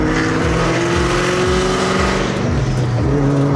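A Ford Mustang SVT Cobra Terminator engine runs close up with a loud, continuous, throaty rumble and pulsing exhaust note, heard alone with no talking.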